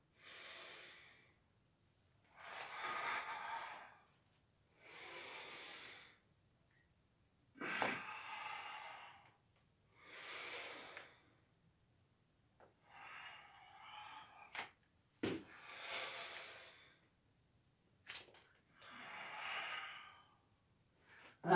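Slow, deep breaths repeat during a beginner yoga class, each inhale and exhale drawn out and close, with quiet pauses between them and no talking.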